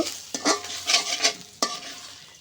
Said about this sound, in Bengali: আরও এক স্টেপ আমি ভেজে নিব